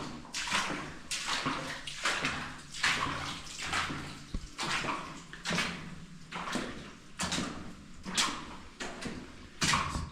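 Water running and splashing nearly 2,000 feet inside an Arizona underground mine, a steady rushing wash with repeated louder surges, close by and with no one speaking.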